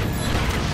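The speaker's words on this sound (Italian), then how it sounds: "Boom! Serbatoio sferico andato." A spherical tank blows up in the video game Just Cause 3: a dense, steady roar of explosive rumble and crashing debris fills the whole short moment at full loudness.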